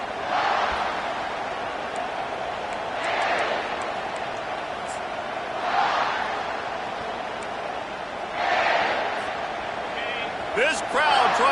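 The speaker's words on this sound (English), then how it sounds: "This crowd trying to show them what it's going to be like all day in this house." Stadium crowd roar in the video game College Football 25, swelling in several waves over a steady background, under a commentator talking.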